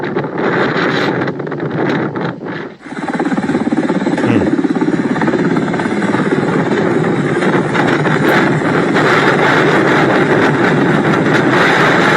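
A helicopter delivering food in Turkey roars loudly and steadily with heavy rotor and wind noise, after a brief dip near the start, continuing as a dense, close drone.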